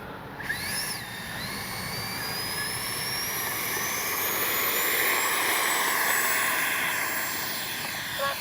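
A Freewing F-22 RC jet with a 70mm electric ducted fan takes off. Its high-pitched whine rises steadily and holds over a broad, loud rush of air, and the sound continues throughout without any talk.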